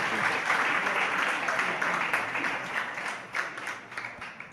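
Steady applause from a crowd, a continuous wash of clapping that fades slightly toward the end.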